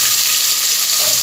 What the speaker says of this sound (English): Here I have pan with 2 tablespoons of oil. We'll add onion